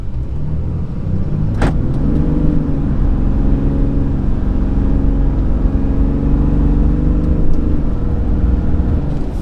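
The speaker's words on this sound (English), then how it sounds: "I'm going to show you the acceleration here in a second." A 2020 RAM 3500 long-bed single-rear-wheel pickup truck accelerates steadily from close by, its engine drone rising in pitch with a smooth, continuous roar and no talking.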